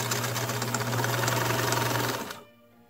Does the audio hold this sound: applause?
no